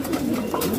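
Pigeons cooing in a loft, a low steady murmuring coo that runs continuously through the moment, fairly close and with no voices over it.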